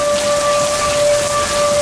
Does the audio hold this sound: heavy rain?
yes